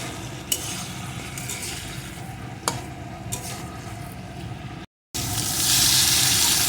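Turmeric and two slit green chillies fry with helencha greens in a pan, a steady close sizzle broken by a few sharp utensil clinks as they are stirred, then a louder hiss near the end.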